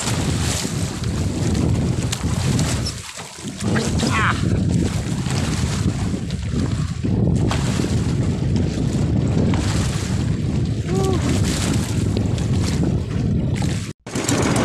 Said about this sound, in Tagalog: lumakas na yung hangin salatan